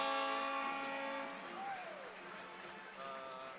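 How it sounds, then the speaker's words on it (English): A foghorn blares in an ice hockey arena after a home win, a loud, rich harmonic blast that sustains, then bends and fades as crowd noise and a voice carry on beneath. "Crank that foghorn up, baby."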